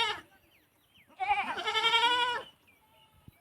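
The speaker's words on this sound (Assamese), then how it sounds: "মাকে যে কিমান চিঞৰি আছে, ঘাঁহ বন একোৱেই খোৱা নাই, কেৱল পোৱালিটোলৈ বাট চাই আছে" A mother goat calls for her missing kid in one long, loud, wavering bleat, preceded by a short faint cry and followed by quiet.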